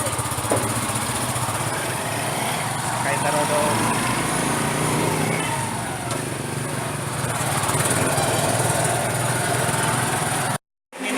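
A small motorcycle engine drones steadily and close during a ride to a transport terminal, a continuous buzzing hum with brief rises, while a voice talks over it before a sudden cutoff at the end.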